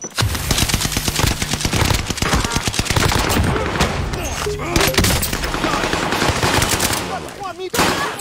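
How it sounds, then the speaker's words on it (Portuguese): Rapid automatic gunfire and scattered gunshots from the video game Warzone, loud and nearly continuous with bursts throughout, alongside other game effects. "Um amigo tá atirando em mim!"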